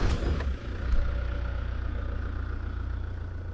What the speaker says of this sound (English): let me tick it over and I'll show you what the symptoms are